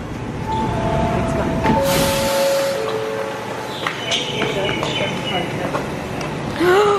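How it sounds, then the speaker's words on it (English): A Sydney Metro train pulling into a station platform, with a rising hiss and rumble, brief tonal whines and a loud burst as it arrives, heard close by in an echoing station. "Whoa, hi train."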